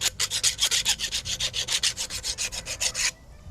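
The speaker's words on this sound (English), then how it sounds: "I'm gonna knock off with the file" A file rasps across the flared end of steel tubing to knock off a burr, about twenty quick rhythmic strokes close up before stopping abruptly.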